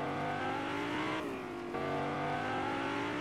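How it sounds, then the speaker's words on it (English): A car in the video game Fortnite drives past with a steady engine hum and whine that stays constant and fairly close, with a short dip in the middle, and no voices. "Oh, here comes that car again."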